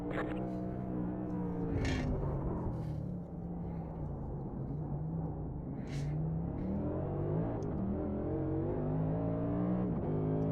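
A race car engine drones steadily in a racing video game, a continuous loud whine with shifting pitch as the car drives and others pass close by, with no talking.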